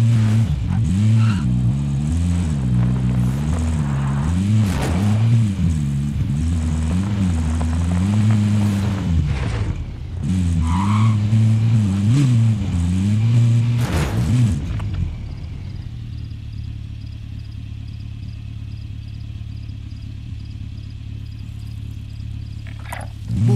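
A vehicle driven in Call of Duty Warzone on the Caldera map, its engine droning loud and close with rising and falling revs for about fifteen seconds before settling into a quieter, steady hum.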